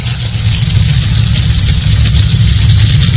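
A top alcohol dragster engine during a burnout gives a loud, steady, rough low roar with a dense buzzing mid-range, sustained without a break and heard alone.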